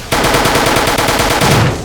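Sustained rapid-fire gunfire from an enemy in the video game Fallout New Vegas, a loud continuous rattle of dense, evenly spaced shots filling the whole stretch with no talk over it.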